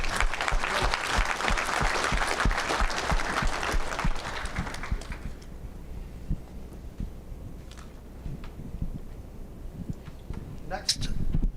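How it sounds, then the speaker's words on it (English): A banquet audience at a tractor-pulling awards ceremony applauds the Zenz team, loud sustained clapping for several seconds that fades out, leaving a quieter room with a voice speaking. "A big congratulations to the Zenz team here tonight. A round of applause."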